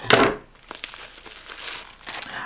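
Plastic packaging being cut open with small scissors, a sharp crinkling burst up front followed by softer rustling and crackling of the wrapper at close range.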